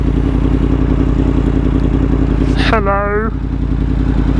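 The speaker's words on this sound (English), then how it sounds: "Oh, I love this bike. Sounds sexy." Yamaha MT10 motorcycle engine running steadily and loud throughout, a continuous close rumble, with a brief spoken greeting partway through.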